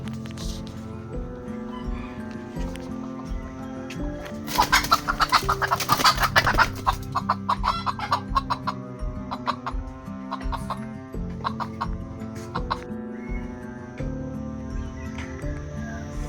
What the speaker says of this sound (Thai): ไก่ต่อ